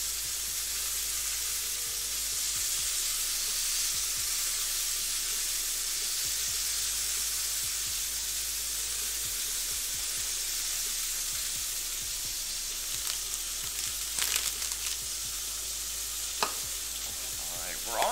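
Steak searing in a hot pan while taco fillings cook alongside, giving a steady, close frying hiss and sizzle with faint stirring clatter, no voices.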